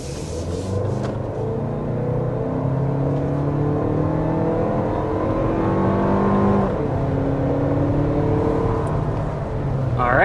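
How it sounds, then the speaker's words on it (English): A 2026 Lexus TX 350 three-row SUV accelerates hard from inside the cabin, its engine note climbing steadily through the gears with a noticeable shift midway, under constant road roar. "But first we need to go ahead and start with a hard acceleration."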